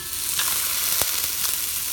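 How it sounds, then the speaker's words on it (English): Pot roast beef sears in a hot pan with a steady, bright sizzle, broken by a few soft clicks and scrapes, close and unbroken by voices. "we'll let that other side sear, and I think I'll turn it back and let this side sear a little more"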